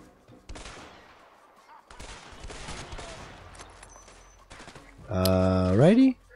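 Scattered gunshots in the co-op game A Way Out, sharp cracks spread through a stretch of talking, followed by a loud sustained tone near the end.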